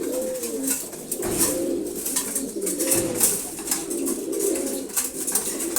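Pigeons being given their morning feed coo steadily in overlapping low warbles, a close flock murmuring continuously with sharp pecking clicks scattered above.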